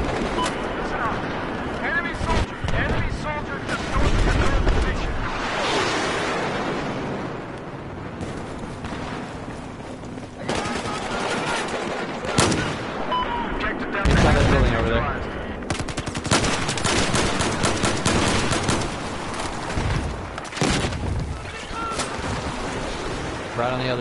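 Rapid gunfire in a shooter video game, with repeated bursts and loud reports running through most of the clip over a dense, noisy battle background.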